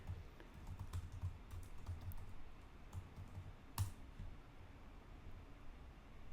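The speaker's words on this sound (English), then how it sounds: "I'll just write his name in the chat." Computer keyboard typing in a quiet room, a fairly steady run of soft key clicks for several seconds with one sharper tap near the end, no talking.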